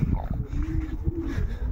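Low, throaty racing pigeon cooing close by, repeated soft calls blending with some background noise.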